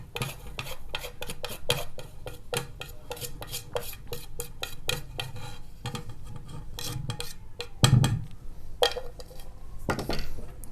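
Egg with black pepper, salt and red chilli is beaten in a bowl for an egg paratha. A utensil clinks and scrapes in a quick, steady rhythm, with one heavier knock toward the end.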